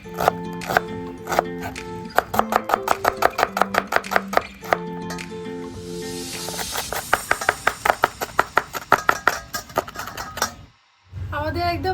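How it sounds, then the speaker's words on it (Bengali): Onions finely chopped with a knife on a board in a home kitchen, a fast, even run of sharp, close tapping strokes that briefly pauses and then resumes, with some talk mixed in. "কেন কুচি কুচি করে কেটে নিচ্ছে"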